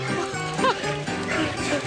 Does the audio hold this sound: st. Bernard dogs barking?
yes